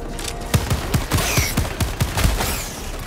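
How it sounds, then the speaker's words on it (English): Rapid gunfire in the video game Helldivers 2, a loud fast string of shots with booming impacts, dense and close throughout. "they're just there fucking shooting"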